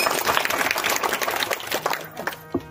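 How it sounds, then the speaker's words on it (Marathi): An audience at a devotional gathering breaks into brisk applause for a mridang player, a dense burst of many hands clapping that thins out and fades near the end. "जोरदार टाळ्या वाजवा."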